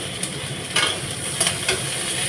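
Boiled snake gourd being stirred together with fried onions in a pan, a steady sizzle under a few soft scraping strokes of a spatula, close and fairly loud, with no voices.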